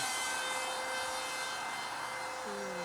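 An R/C Depron F-100 Super Sabre propjet model flies overhead with a steady high-pitched electric whine, its pitch dropping near the end as it passes by.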